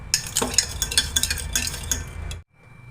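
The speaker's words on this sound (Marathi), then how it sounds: "चमच्याने छान एकजीव करून घ्यायचं साखर आणि ही कॉफी" A spoon stirs sugar and instant coffee together in a cup with a fast, steady scraping and clinking right up close, then goes quiet.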